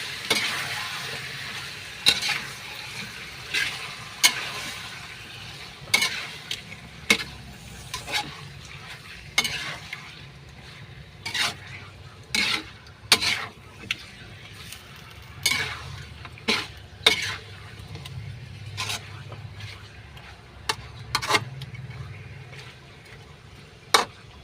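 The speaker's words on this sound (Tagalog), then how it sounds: "Kaya haluin ko na." Chicken tinola in a cooking pot being stirred, a spoon scraping and tapping the pot in an irregular rhythm over a low simmering hiss, close and fairly quiet, with no talking.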